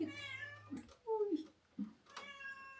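A cat meows several times in short, rising calls, fairly close, with a voice talking between and around the meows.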